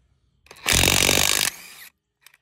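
A DeWalt DCF891 impact wrench tightening a nut on a Ford Ranger, a loud close burst of rapid hammering lasting about a second, then a brief softer whir as it spins down, alone without talk.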